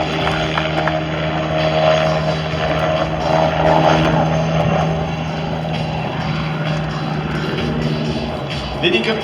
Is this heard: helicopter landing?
yes